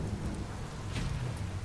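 Heavy rain downpour in the video game Biomutant, a steady dense hiss of falling water with a low rumbling undertone, continuous and moderately loud, no speech.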